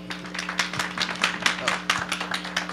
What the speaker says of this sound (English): I'm getting claps